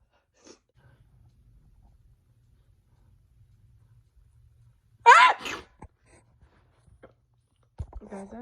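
A woman lets out a single loud, close sneeze after a long stretch of near silence, followed by a few faint breaths and small mouth sounds.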